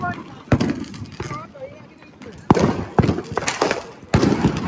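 Handheld firecrackers go off at a Diwali celebration: several sharp, loud bangs with crackling, spaced a second or two apart, while people talk and shout throughout.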